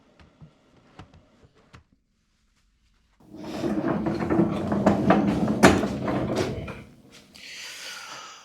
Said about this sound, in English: Then I just put the drawers back in and called it done.